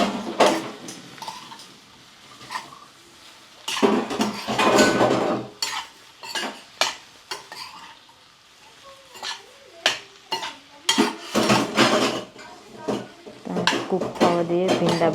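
Okra and potatoes being mixed with turmeric and spice powders in a pan, bursts of metal spoon clatter and scraping against the pan, close, in uneven clusters with quiet gaps between.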